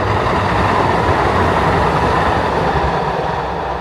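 High-speed metro train passing close by, a loud, continuous rushing rumble of wheels and wind that holds steady throughout with a slight fade at the end.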